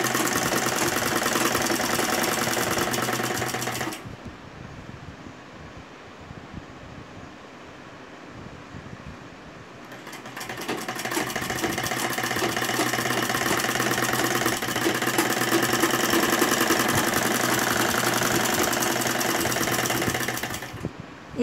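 An electric sewing machine stitches fabric for a baby garment in a fast, steady whirring run, pauses for several seconds with only a low hum, then resumes stitching at full speed until near the end; close and without talk.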